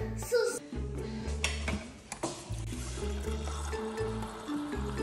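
Water is poured in a short stream, a steady liquid trickle and splash running under background music and room noise.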